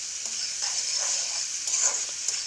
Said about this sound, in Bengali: কাঁচা তেলে গরম হওয়ার পর সম্বার দিয়েছি 1 টুকরা পেঁয়াজ।